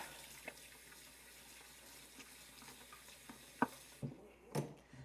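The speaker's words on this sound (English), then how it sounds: "So I like to add some dish soap into it and then give them a good scrub." Eggshells are scrubbed by hand in hot soapy water in a sink, giving faint sloshing and splashing with a few sharper clinks and scrapes, quiet and with no talking.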